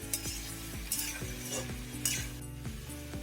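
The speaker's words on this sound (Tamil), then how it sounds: "இப்போ இந்த மசாலா போட்ட உடனே இந்த மசாலா எல்லா பக்கமும் எல்லா காயிலும் ஸ்ப்ரெட் ஆகுற மாதிரி நம்ம இப்போ கிளறி விடலாம்." Masala gets stirred into bitter gourd frying in a kadai, a close sizzle under repeated scraping and clinking strokes of a spatula at a steady rhythm, with no one talking.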